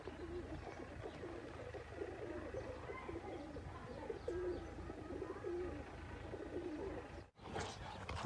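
Soft, repeated pigeon coos roll on and on at a steady low pitch, a flock murmuring together, with occasional faint chirps and outdoor rustle.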